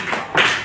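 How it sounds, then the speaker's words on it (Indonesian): A classroom of students does a short salute clap, a quick burst of claps and taps from a group in a school room. "Kita tepuk salut"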